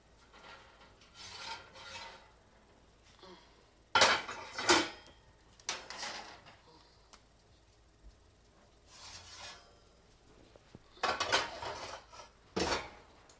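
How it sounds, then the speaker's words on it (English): Cast iron skillets are pulled from an oven in a home kitchen while Christmas peppermint cookies are being baked, giving several loud metallic clanks and scrapes in bursts, with quieter rustling between them and no talk. "I forgot that I had stuck my cast iron skillet in the oven. So, had to grab those out."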